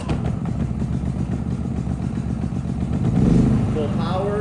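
A small engine chugs nearby with a steady clattering putter while a person talks over it.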